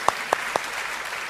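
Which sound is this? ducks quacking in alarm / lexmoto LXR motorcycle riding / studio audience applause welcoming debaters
studio audience applause welcoming debaters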